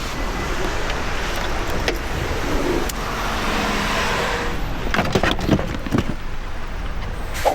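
A small, budget Kia car on Jeju Island gives a steady interior hum, with a few thumps and clicks as it is handled.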